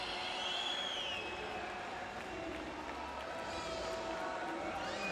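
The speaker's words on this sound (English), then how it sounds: "The crowd again getting excited for their home athletes." A crowd in a Rio 2016 Paralympic swimming arena cheers for home athletes, a steady wash of distant cheering and applause with whistles rising above it while a commentator talks.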